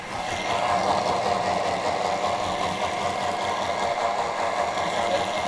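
A Thermomix running at high speed puréeing creamy red lentil soup, a steady dense whirring drone that holds evenly throughout, close and continuous with no talking.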